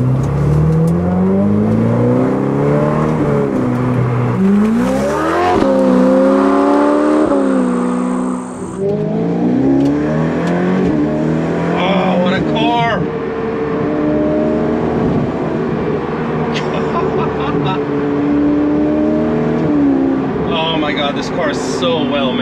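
A Ferrari in first gear, shifted manually with the paddles, revs and pulls hard on the road, its engine note climbing and falling through several rises, loud and close. People talk over it throughout.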